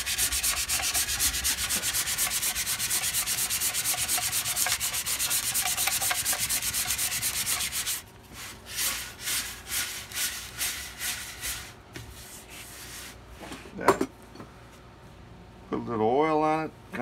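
Light hand sanding of the edge of a 1960s Ludwig wooden drum shell with 200-grit sandpaper: steady, close rubbing strokes for about eight seconds, then shorter, separated strokes and brief handling noises.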